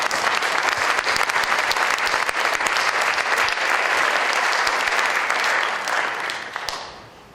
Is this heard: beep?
no